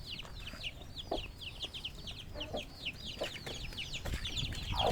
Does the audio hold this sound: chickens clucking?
yes